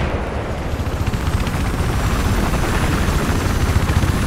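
A helicopter in Battlefield 4 drones loudly and steadily with a dense, rumbling rotor chop, constant throughout with no voices.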